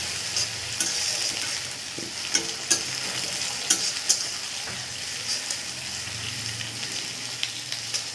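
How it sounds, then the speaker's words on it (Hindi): Chopped onions fry with whole spices in a pan for chicken curry, producing a continuous crackling sizzle broken by repeated sharp scraping taps of stirring. "अब इसमें हम डाल देंगे प्याज जिन्हें हमने चॉप किया था। इसे बढ़िया तरीके से भून लेंगे एकदम गोल्डन ब्राउन होने तक"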